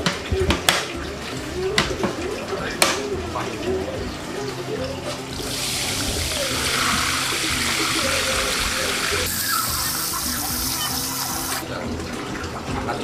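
Water gushes and splashes steadily as an aquarium holding toman fish is drained, a loud continuous pour after a few knocks and clatters, with birds chirping in the background.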